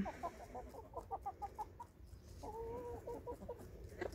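Chickens cluck in a short series of repeated calls, followed by a longer, more drawn-out vocalization, close and fairly clear over a low background hum.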